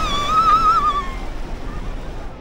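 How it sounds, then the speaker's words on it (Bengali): Sea waves at the beach in Puri make a steady, broad roar of surf up close, with a thin whistling tone riding over it during the first second. "আর প্রচুর ঢেউ কিন্তু পুরীতে, একদম দেখো"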